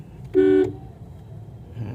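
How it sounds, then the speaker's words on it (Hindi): A single short car horn honk sounds clearly once over a low road rumble, followed by quiet traffic noise. "हल्का एक बार हॉर्न मारिए"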